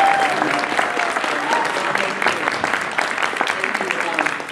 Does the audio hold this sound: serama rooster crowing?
no